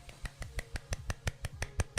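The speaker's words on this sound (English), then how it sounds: "I can clap with one hand" A steady run of sharp, evenly spaced snapping claps made with one hand, about five per second, close and crisp, with no talking.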